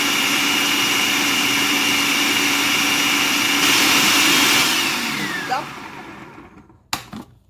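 An electric blender purees pimentos, celery, shadow benny and rosemary, whining loudly and steadily, then the motor winds down and stops, followed by a couple of sharp knocks as the jar is handled.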